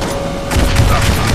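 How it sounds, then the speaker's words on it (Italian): Gunfire in the video game Saints Row 2 breaks out as a dense, rapid burst of shots, loud and close, filling the short moment with booming crackle. "ma senti anche degli spari"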